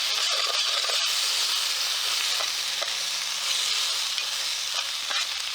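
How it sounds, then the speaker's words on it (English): Chili oil sizzles and simmers steadily in a pan over a charcoal fire pit outdoors, a dense continuous hiss with a few faint clicks and pops, close and fairly loud throughout. "Let that simmer again for a bit"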